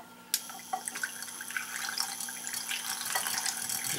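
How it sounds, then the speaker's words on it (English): A handheld milk frother whisking eggs in a bowl for an omelet, a faint steady whir with a high thin whine, close up and alone, with soft splashy clicks of liquid through it. "Now I'm going to take my trusty milk frother, and we're going to put it in there."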